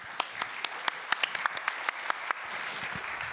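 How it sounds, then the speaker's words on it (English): An audience at a business talk applauds, with a steady wash of clapping and sharp individual claps standing out over about three seconds, moderately loud and with no speech. "a great round of applause for Anton, please."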